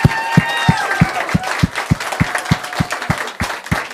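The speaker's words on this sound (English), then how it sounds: "they really do deserve our best round of applause" A church audience applauds a children's Charlie Brown Christmas play, a steady run of claps with distinct sharp beats standing out over dense crowd clapping, no voices on top.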